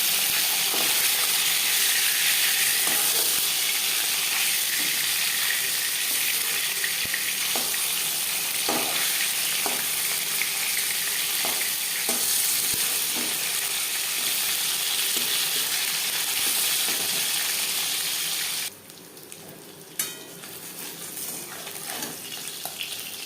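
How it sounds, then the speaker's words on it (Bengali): Loud, continuous sizzling and hissing of chitol fish frying in hot oil, with occasional clinks of a utensil; the sizzle drops briefly before resuming. "একটা সাইড ভাজা হয়ে গেলে অপর সাইডটা উল্টে দেবো।"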